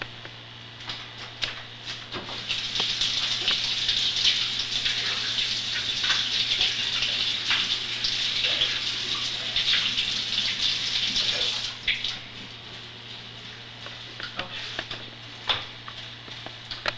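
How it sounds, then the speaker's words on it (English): Water runs from a kitchen tap to wash sandy fennel, making a steady close splashing gush for about ten seconds, then it eases into softer trickles and drips against a low background hum. "So we're going to have to tub this and wash this off a little bit."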